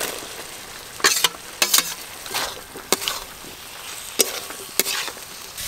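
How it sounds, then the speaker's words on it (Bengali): Fried potato and bitter gourd are sautéed with spices in a pan, soft sizzling broken by several sharp spatula scrapes and clanks at irregular intervals, no talk. "মশলার সঙ্গে আলু করলা ভাজা দিয়েও কিন্তু খানিকক্ষণ ধরে আমি কষে নিয়েছি"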